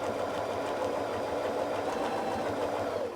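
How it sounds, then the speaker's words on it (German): A domestic sewing machine stitches a quilt with ruler-work quilting, a steady, close, fast mechanical whir and rapid needle chatter running without pause. "Nähen zur anderen Seite."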